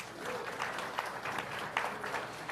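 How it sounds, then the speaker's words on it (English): A town hall meeting crowd applauds in a steady round of clapping, moderately loud and even, with a few sharper claps standing out near the middle and end. "Give yourself a nice round of applause for that"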